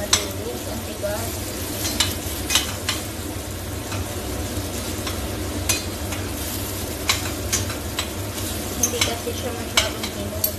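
Firm tomatoes being mashed with a utensil while they sauté in a frying pan, under a steady sizzle with repeated sharp scraping taps against the pan. No one speaks over it.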